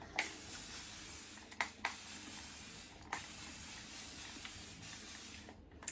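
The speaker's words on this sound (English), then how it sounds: "I'm just going to spray my hair down." A fine mist sprayer hisses steadily in quick puffs, with a few sharper spritzes and short gaps between them, close and fairly quiet.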